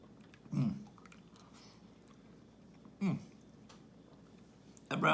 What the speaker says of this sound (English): I'm gonna chew up my hot dog first.